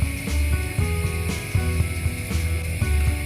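A meat grinder churns meat for bakso with a steady mechanical whir, broken by regular rhythmic clicks and knocks as the mechanism turns, close up with no talking.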